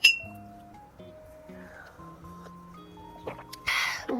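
A single bright clink of soju glasses touching in a toast rings out at the start, followed by soft melodic background music.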